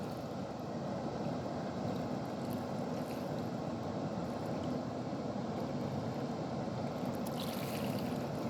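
Water pours steadily over the lower dam on the Salt River in Missouri, a dense, continuous rushing roar that holds close and loud throughout with no pauses.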